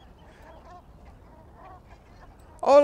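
Geese honk in a sudden loud burst near the end, close by, flying over a beach, after a stretch of faint distant calls and low background rumble.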